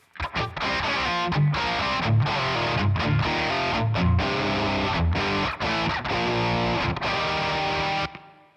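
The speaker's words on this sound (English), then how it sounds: "So it has just a touch of a room, a chamber actually." Heavily distorted electric guitar plays sustained chords with short breaks, with a subtle chamber reverb tail filling the space.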